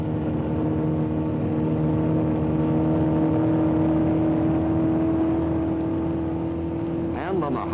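A 1962 Ford Mustang prototype with a 1.5-liter engine running on a road course, a steady loud engine drone held throughout, with a brief rising whine near the end.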